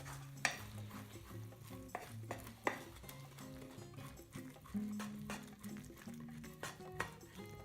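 An omelette is scraped and served from a pan onto a plate in a kitchen. Faint utensil clinks and scraping sit over a quiet low hum, with a few sharp taps.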